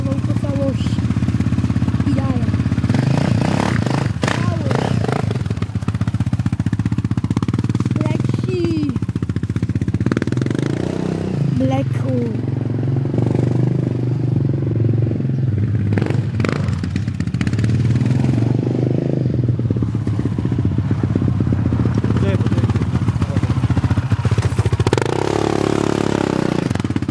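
A loud, steady Yamaha Raptor ATV engine roars throughout with some clattering and occasional revving swells, a voice talking over it at times.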